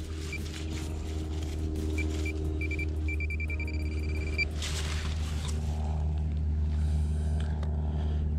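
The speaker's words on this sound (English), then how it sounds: "See if the pinpointer can find it here for us." Metal detector pinpointer beeping in a county park, with short high tones that turn into a longer steady tone, over a constant low rumble.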